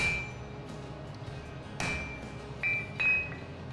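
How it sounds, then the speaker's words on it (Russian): A small hammer straightens a hot, freshly forged metal sheet in a village blacksmith's forge. There are a few separate, ringing metallic strikes a second or so apart, with a faint tonal ring between the blows. "Так, теперь молоточек."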